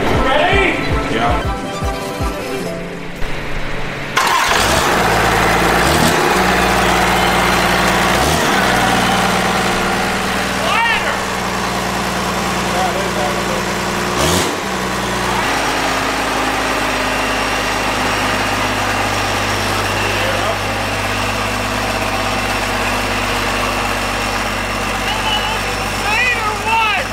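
A Cummins diesel engine with twin semi-truck turbos, fitted in a Mustang, cranks several times and then catches with a loud roar before settling into a heavy, steady idle up close.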